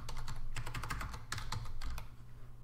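Quick bursts of typing on a computer keyboard while renaming an item in Inkscape, close and clear with uneven rhythm, pausing briefly near the end before a final keystroke.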